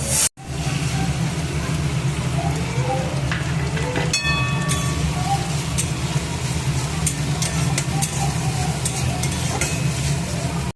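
Chili and poppy seed paste fry in a pan for a Bengali katla fish dish, making a loud, continuous sizzle with frequent scraping and stirring clatter throughout.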